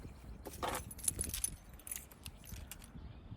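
Keys jingle-jangle softly as someone handles them inside a Jeep Grand Cherokee while SUV camping in West Virginia. The rustling metallic clinks are quiet, close and continuous, with a few brighter jingles in the middle.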